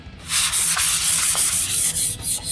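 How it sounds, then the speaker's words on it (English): Light hand sanding with craft paper on a shellac-finished walnut countertop between coats: repeated back-and-forth scratchy rubbing strokes, close and steady, no voices. "Use a little bit of craft paper for a tad bit of light sanding in between coats of shellac"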